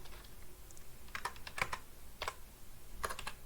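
Soft, quick keystrokes tap on a computer keyboard in small clusters, faint and close, with quiet pauses between the bursts.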